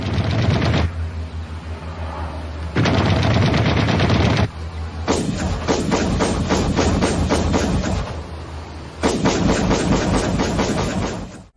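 MiG-15 jet cannon firing in a controlled weapon test, several loud sustained bursts of rapid, heavy gunfire separated by brief pauses, booming and close.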